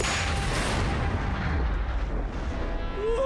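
A cartoon sperm whale, a full-grown bull, lets out a deep booming click: a loud, low, rumbling blast that swells and fades over a few seconds, with a faint rising whistle near the end.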